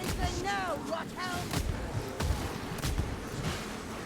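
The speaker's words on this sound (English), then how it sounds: "I'm just wasting it by shooting it in the air" Pistol shots fired into the air in the video game Against the Grain land as a series of sharp cracks spaced about half a second apart, moderately loud over a busy background of ambient game noise.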